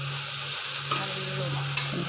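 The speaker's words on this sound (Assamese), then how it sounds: "সৰু আলু দি ভাজিছোঁ" Broiler chicken frying with small potatoes in a pan, a soft continuous sizzle with a couple of stirring clinks, no talk.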